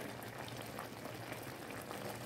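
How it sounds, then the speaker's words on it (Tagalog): 7-Up boiling in a pot while shrimp is cooked in a kitchen in Jeddah, a soft, steady bubbling simmer that is faint and continuous, with no talk. "Ayan, kumukulo na siya."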